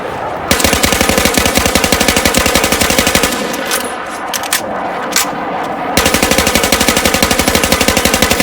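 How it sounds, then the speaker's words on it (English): Rapid automatic gunfire in the Battlefield video game while shooting at targets: loud, steady bursts with a brief lull of scattered single shots in the middle, then sustained fire again. No talking. "we can finally jump ahead and shoot at some targets"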